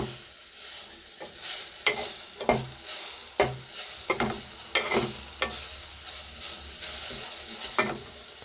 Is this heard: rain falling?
no